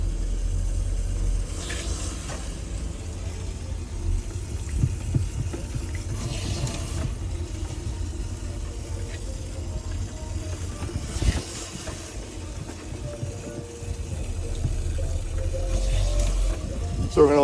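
A boat's watermaker runs during pickling, giving a steady broadband rush of flowing water and pump hiss that holds at an even level throughout.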